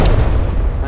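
A deep, loud boom fills the short moment as door-mounted explosives detonate after being shot in the SWAT shooter Ready or Not, a heavy broadband blast with low rumble, close and overwhelming.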